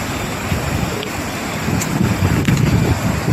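Waves washing on the shore at Muara beach, a loud broad rush of surf mixed with heavy wind buffeting on the microphone, steady throughout with no talk.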